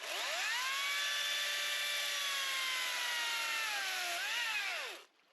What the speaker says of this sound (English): Got the chainsaw.